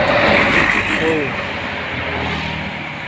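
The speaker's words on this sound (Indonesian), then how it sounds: "bus kecepatan tinggi teman-teman, bus DMI" A DMI bus passes at high speed on a road. A loud engine roar swells and then slowly eases off, with a person talking over it.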